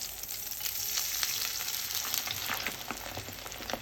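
An egg fries in hot oil, added to cooked masoor lentil dal, giving a steady, close crackling sizzle with scattered pops that carries on evenly without any talk.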